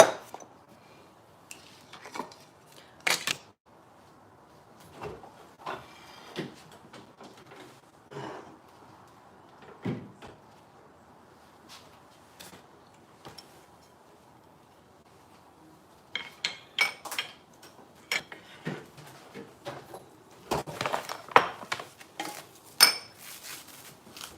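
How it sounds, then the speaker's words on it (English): Egg whites whisked in a bowl: faint, scattered clinks and scrapes of a whisk against the bowl at first, then a quicker, more regular run of tapping strokes toward the end, quiet and close. "are also gonna need to whisk our egg whites."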